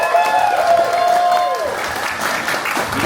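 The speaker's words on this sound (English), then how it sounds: "so big round of applause for them." A convention opening ceremony crowd breaks into applause, a dense wash of clapping rising under a loudspeaker voice with ringing tones that fades as the clapping continues.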